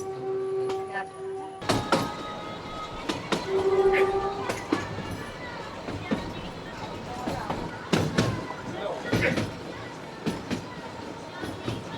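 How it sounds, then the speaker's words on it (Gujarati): A train pulling out of Bilimora Junction on the 110-year-old narrow-gauge line to Waghai, heard from inside a Vistadome coach: a rolling rumble with irregular clanks and knocks, a brief horn-like tone, and occasional voices over it. "આપણી ટ્રેન નીકળી ગઈ"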